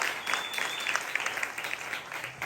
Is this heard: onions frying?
no